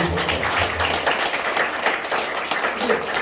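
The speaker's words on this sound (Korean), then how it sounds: "박수 치세요" A church congregation claps during a worship service, a brisk, continuous patter of many hands close by, with voices mixed in under the clapping.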